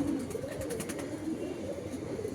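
Pigeons on a rooftop give a low, soft, continuous cooing with a rolling throaty pulse. The birds are close, and there is faint fluttering or rustling in the background.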